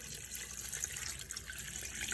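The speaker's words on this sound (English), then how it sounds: "So now to that mixture, we're just gonna add some water." Water pours into a pork carnitas mixture in a home kitchen, a steady splashing hiss of running liquid, close and continuous throughout with no talking.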